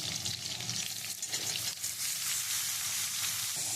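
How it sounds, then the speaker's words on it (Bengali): Young jackfruit and potatoes frying in oil in a wok, a loud, continuous hiss and crackle of sizzling, close up and steady throughout, with no speech. "আমি কড়ার মধ্যে তেল দিয়ে আমি এই আলুটা ভেজে নিচ্ছি"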